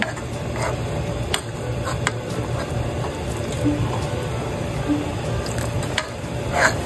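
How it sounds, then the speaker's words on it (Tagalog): Steady bubbling and hissing of coconut-milk stew with yellowfin tuna, pechay and eggplant simmering uncovered in a pot, close and continuous, with a faint background hum. "Hayaan lang po natin itong kumukulo"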